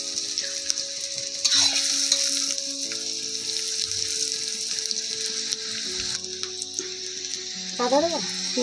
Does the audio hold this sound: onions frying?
yes